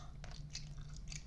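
Gum is chewed close up and quietly, producing a short run of moist, sticky clicks and smacks.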